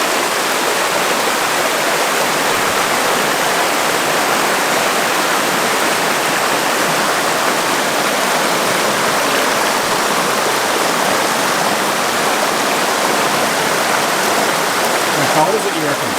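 A waterfall pours heavily in a constant roaring hiss of rushing water, loud and close, with a voice faintly present under the roar.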